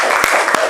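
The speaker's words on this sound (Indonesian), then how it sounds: "kita berikan aplaus" A brief burst of applause from a classroom group, a short close patter of hand claps with a couple of sharper claps.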